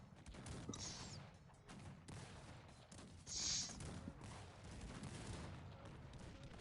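Distant cannon blasts and rumbling gunfire in the video game Cossacks 3, over a dense, noisy battle backdrop, with a couple of sharper bursts standing out.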